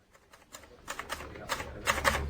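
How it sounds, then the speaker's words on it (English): Typewriter keys clacking as a report is typed, an uneven run of sharp strikes growing louder and denser over a couple of seconds, close and alone. "He was typing out his report."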